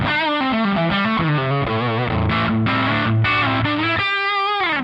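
Electric guitar through an HX Stomp amp model with the drive cranked up, a mid-gain distorted riff of sustained chords and picked notes, loud and continuous with no talk.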